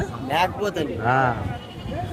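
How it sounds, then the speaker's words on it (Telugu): A ram at a tribal village market gives two wavering, nasal bleats close by, one short and one longer, while people talk nearby. "ఏంటి ఇది గొరిపోతా"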